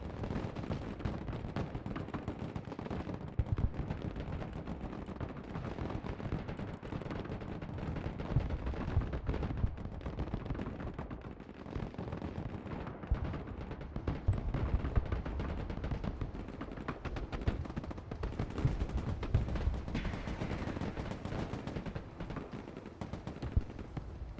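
Mortar blasts and rattling gunfire from the Broken Arrow war game roll on in a dense, continuous barrage for the whole stretch, heavy low booms overlapping steady crackling shots at a loud, even level without letup.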